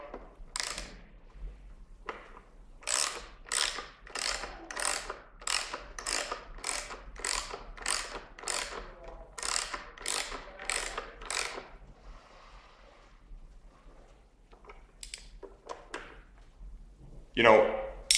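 A ratchet tightens the exhaust canister bolts on a 2013 Yamaha R1 during a Graves full exhaust install, making bursts of quick, sharp clicking strokes, close and crisp, with brief pauses between runs and a louder knock at the end.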